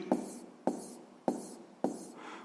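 A pen writes out a sixth-grade math solution on paper: four sharp strokes at a steady rhythm, each a crisp tap followed by a brief scratchy trail, close and moderately quiet with no talking.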